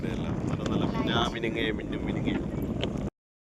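Steady wind buffeting the microphone outdoors in Vidyanagar, Bengaluru, a constant rushing roar with some voices faintly underneath, cutting off abruptly at the end.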